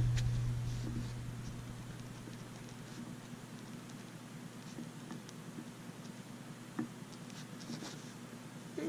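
A Muji multi-color pen writes on paper in light blue ink, giving a faint, continuous scratchy patter of nib strokes over a low steady hum, with no talking.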